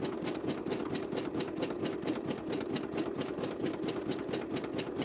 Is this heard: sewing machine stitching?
yes